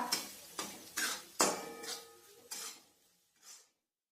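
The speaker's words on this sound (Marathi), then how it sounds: "आता आपण हे छान परसून देऊया" A spoon stirs mixed vegetable bhaji with garam masala and salt in a pan, making about seven rhythmic scraping clanks close by that soften toward the end and stop, with no talking.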